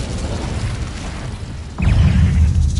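Incendio fire spell cast in the Hogwarts video game, a whooshing burst that swells into a louder, rumbling blast of flame partway through, close and sustained.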